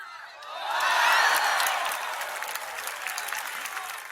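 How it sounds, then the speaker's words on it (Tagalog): A crowd of tennis fans at a women's quarterfinal match bursts into applause and cheering, swelling quickly to a loud peak and then settling into sustained clapping. "Panay ang hiyawan ng fans ng pangalan ni Alex."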